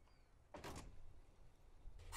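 A door swings shut in the video game Disco Elysium, a broadband whoosh and thud near the middle of the moment, with a second softer burst at the very end over a quiet room tone.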